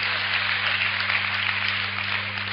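An audience at a poetry recital by Om Vyas claps steadily for a few seconds, a dense, even patter of many hands under a faint mains hum.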